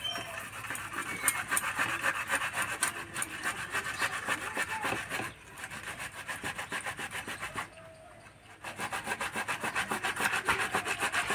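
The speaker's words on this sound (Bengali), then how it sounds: "এবার টমেটো গ্রেট করে নেব।" A tomato is rubbed against a grater in a home kitchen, making quick, rhythmic rasping strokes close by, with two brief pauses between runs of grating.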